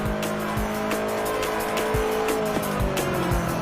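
Racing car in Forza Horizon 4, driven with a PXN V3II wheel, engine droning steadily while tires squeal in repeated short bursts throughout, loud and continuous with no voices.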